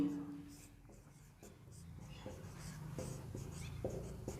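Chalk or marker taps and scrapes on a classroom board during an agriculture chemistry lesson, several short faint strokes under a low background hum, with no clear speech.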